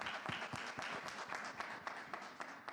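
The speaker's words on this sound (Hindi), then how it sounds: "जोरदार तालियां।" Studio audience applause at a televised singing competition, a brief burst of dense clapping with scattered sharper claps, moderately loud and steady throughout.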